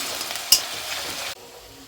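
Spice paste sautéing in a pan for a sweet baby corn dish gives a close, steady sizzle with one sharp scrape of a spoon, then cuts off abruptly into quiet.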